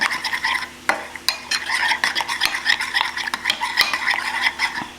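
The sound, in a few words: stirring pepper into taco filling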